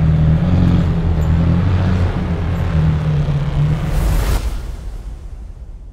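McLaren Senna track car driving hard on a racetrack, a loud steady engine drone with a low harmonic hum that holds for about four seconds, then drops away sharply into fading road and wind noise.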